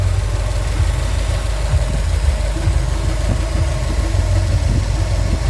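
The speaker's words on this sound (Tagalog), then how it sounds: "pag umaandar makina" A Subaru WRX STI engine idles nearby with a steady, low, rumbling drone that stays even and unbroken throughout, with no talking.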